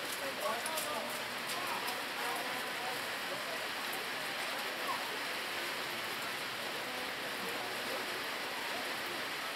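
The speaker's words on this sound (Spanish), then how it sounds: "Está lloviendo un poquito menos que recién." Rain falls steadily at an outdoor rugby match, a constant soft hiss throughout, with faint voices underneath.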